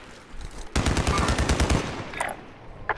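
Machine gun fire in the Warzone video game: a sustained close burst of about a dozen rapid, loud shots lasting roughly a second, followed by fainter distant crackles.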